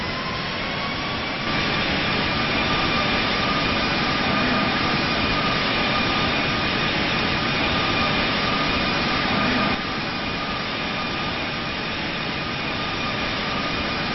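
Jet airliner engines in the Infinite Flight simulator, an Emirates heavy jet at Hilo runway 26, hold a steady loud roar with a broad rumble and a high whine that swells slightly mid-clip during takeoff.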